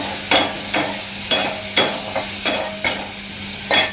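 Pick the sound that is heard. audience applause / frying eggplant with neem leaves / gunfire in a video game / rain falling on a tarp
frying eggplant with neem leaves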